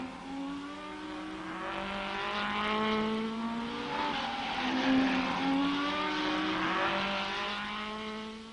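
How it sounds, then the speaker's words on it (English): 1964 Tour de France auto race cars, Shelby Cobras and Ferraris, roar past with engines climbing and falling in pitch, several overlapping revving motors sustained and loud throughout. "It's a battle between Carroll Shelby's Cobras, there's Maurice Trantino leading, and the Ferraris"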